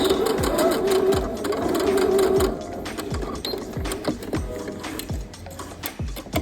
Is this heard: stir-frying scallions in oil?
no